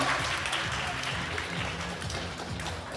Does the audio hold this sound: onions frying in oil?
no